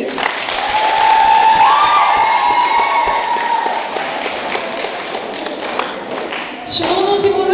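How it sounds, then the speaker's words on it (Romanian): Audience in a hall at a March 8 celebration finale clapping and cheering, a loud sustained wash of applause with shouts and whoops rising and falling, briefly interrupted by a voice near the end. "Aplauze pentru dânsele!"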